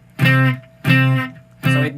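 Three evenly spaced guitar octave chords with the middle string muted sound punchy and percussive, each struck cleanly and cut short, played alone with no talking.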